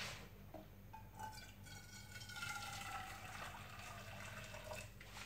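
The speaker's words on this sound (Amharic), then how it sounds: "ለብ ያለ ውሃ እናረጋለን ድስት ላይ" Lukewarm water poured into a cooking pot while making barley porridge, a steady close splashing trickle that runs throughout alone, with no voices.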